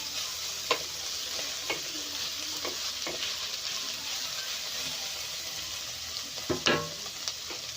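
Cabbage stir-fries in a pan over a high flame with a steady bright sizzle, broken by several sharp scrapes and clacks of a utensil stirring, close and loud with no talking.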